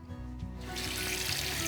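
Cold water is poured from a tap into a pan of carrots, a steady close rush and trickle that grows fuller as it goes on.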